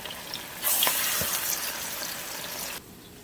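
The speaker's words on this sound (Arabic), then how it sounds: "وهنا عندنا هاي فلافل هم قاعدين نقلي." Falafel frying in oil, a bright, close sizzle that rushes in suddenly and holds for about two seconds with a couple of small pops before cutting off.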